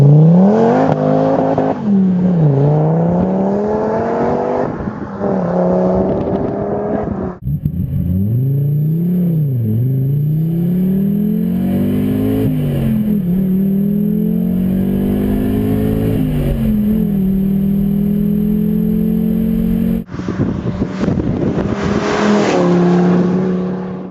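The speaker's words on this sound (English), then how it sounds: "the power is quite high with the 5-cylinder from Audi, 380 horsepower" A Donkervoort sports car with a 380-horsepower Audi five-cylinder engine revs hard and drives, its engine note climbing and falling through gear changes, loud, close and continuous with no talk.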